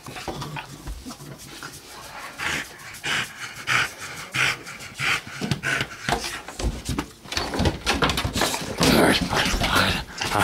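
A dog pants close by in quick, rhythmic breaths that grow heavier and louder toward the end, with occasional soft rustles and knocks.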